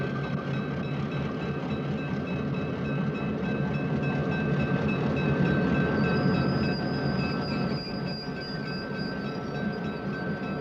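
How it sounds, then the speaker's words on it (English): A pair of Western Pacific F unit diesel locomotives on a work train near Greenville on the High Line rumbles steadily, with a heavy engine drone and faint high squeals as it slows. No one speaks over the continuous, moderately loud sound. "This pair on a work train near Greenville on the High Line will come to a stop."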